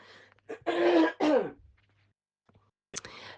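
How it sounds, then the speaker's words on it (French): A woman clears her throat twice in quick succession, close and fairly loud, then gives a short cough after a pause of near silence, the irritation coming from dust swallowed while doing housework. "j'espère que je ne vais pas beaucoup tousser parce que avec le ménage, j'ai avalé beaucoup de poussière"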